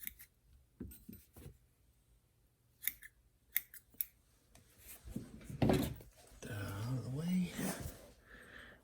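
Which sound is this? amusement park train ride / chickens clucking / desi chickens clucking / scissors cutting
scissors cutting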